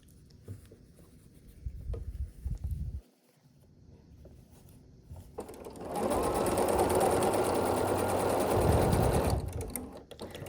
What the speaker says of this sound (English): now I just need to sew the rows together into the block